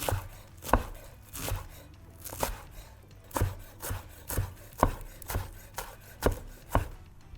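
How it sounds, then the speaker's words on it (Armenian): A knife chops parsley and garlic in a slow, even rhythm of about a dozen crisp, close thuds, with quiet scraping between strikes. "հիմա մենք կտրատելու ենք մաղդանոսը և սխտորը"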